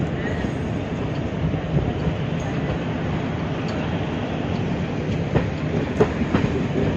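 A Garib Rath Express train rolls steadily along the tracks between Indore and Nizamuddin with a continuous rumble and faint rhythmic clicks of wheels, fairly close, no voices.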